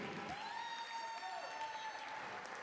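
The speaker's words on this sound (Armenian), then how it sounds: "Մի հատ բարձր ջիգարով ծափարենք, ասենք շնորհակալություն։" Armenian wedding guests applauding together, a steady dense wash of clapping with a thin sustained tone running over it.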